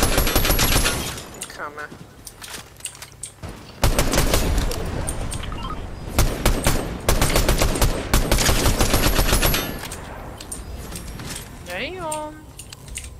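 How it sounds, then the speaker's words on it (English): Crossfire gunfire in Fortnite, in a Zero Builds squads match, comes from all sides as dense, loud bursts of automatic shots with short gaps, mixed with pickup and game effect chimes while a player speaks briefly. "Getting caught in the crossfire from all over."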